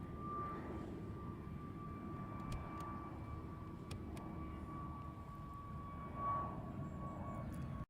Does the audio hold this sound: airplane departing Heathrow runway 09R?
yes